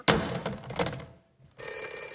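An old telephone bell rings loudly in a radio drama, a harsh sustained jangle that breaks off briefly and then resumes with a steadier metallic tone, close and with no talk over it.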